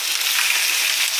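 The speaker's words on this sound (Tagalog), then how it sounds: "Iprito muna natin siya ng kunti." Pork pieces frying in a pan before being cooked into Filipino adobo give a steady, close hiss and sizzle with no talking over it.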